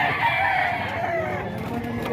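Chickens cluck and call in a continuous noisy jumble, close by, with no clear pauses.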